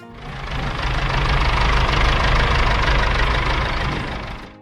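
A Ford 7710 tractor's 4.2-liter diesel engine runs with a steady, dense rumble, swelling in then fading out, loud and close with no voices.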